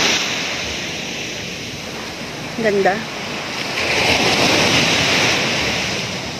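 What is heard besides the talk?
ocean waves breaking on the beach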